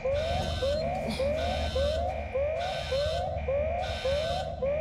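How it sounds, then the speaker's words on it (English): An alarm blares in Alien Isolation, a loud repeating electronic wail with rising sweeps roughly every half second, pulsing steadily without pause. "I just caused a huge alarm"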